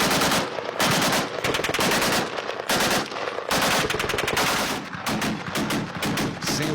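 Loud close-range automatic gunfire in close combat in Syria rattles out in long rapid bursts, separated by brief gaps and then followed by faster, choppier volleys.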